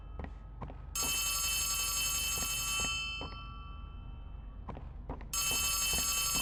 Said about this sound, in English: Hearing a phone call coming from the right